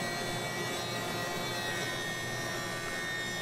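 Jointer flattening ash boards in a light pass, a loud continuous close whine and rushing cutter noise with steady level throughout.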